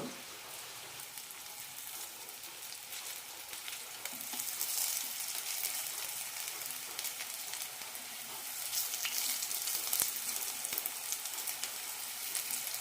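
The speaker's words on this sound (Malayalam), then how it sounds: "ഇനി ഇത് വറുത്തെടുക്കാം പാനിലേക്ക് എണ്ണ ഒഴിച്ചിട്ടുണ്ട് മീൻ വറക്കുന്നത് പോലെ തിരിച്ചു മറിച്ചിട്ട് വറുത്തെടുക്കാം" Snake gourd pieces frying in oil in a pan give a steady, soft, hissing sizzle, fairly faint and continuous, with no talking.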